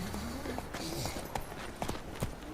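Hooves of the horse Roach clip-clop in The Witcher 3, a steady run of close, moderately loud steps under music and ambience.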